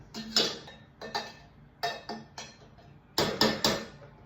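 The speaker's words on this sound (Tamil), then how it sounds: "இந்த ஒரு நிமிஷம் மேல்துக்கு தான் நல்லா கலருவோம்" A metal spoon scrapes and clinks against a pot while rice upma is stirred, in sharp, evenly spaced bursts of rattling strokes, close and fairly loud, with no talking.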